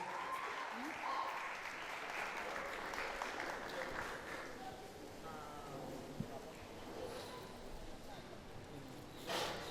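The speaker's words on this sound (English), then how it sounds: "Please keep clapping as they go back to their seats." Audience at an award night conference applauds steadily for about ten seconds, a continuous wash of clapping from a sizeable crowd with a host's voice over it.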